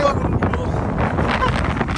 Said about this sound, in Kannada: ಯಾವ ಥರ ಗಾಳಿ ಬೀಸ್ತಿದೆ ಅಂದ್ರೆ ಯಪ್ಪ ಛತ್ರಿನೇ ಮುರಿದೋಗ್ಬಿಡ್ತು ಗುರು.